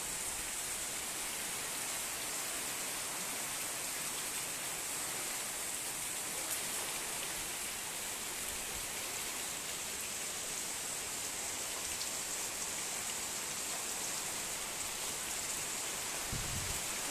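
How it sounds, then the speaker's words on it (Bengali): Heavy storm rain pours down in a dense, unbroken hiss that stays even and loud throughout, with no voices over it. "যেমনি বৃষ্টি তেমনি ঝড়।"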